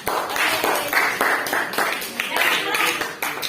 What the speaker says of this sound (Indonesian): Boleh tepuk tangannya buat kelompok apa enggak?